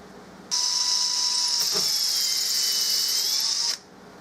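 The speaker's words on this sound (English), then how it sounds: "I'm going to mark 3 1/8 and then drill that second hole" A power drill bores a screw hole through a medium rubber recoil pad for a Remington 700 Mannlicher conversion, one steady high whine running about three seconds before stopping, close and loud with no talk.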